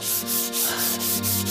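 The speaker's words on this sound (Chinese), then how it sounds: "这打磨家具，这样就差不多了啊！" Wooden furniture being sanded by hand, a cabinet worked with brisk repeated scraping strokes, roughly six rhythmic passes heard up close and alone.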